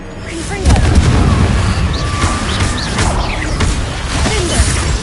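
The explosive Confringo spell in Hogwarts Legacy erupts as a loud, booming blast with crashing debris and rumbling combat noise, while a voice speaks over the fight.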